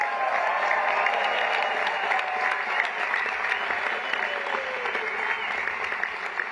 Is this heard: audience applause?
yes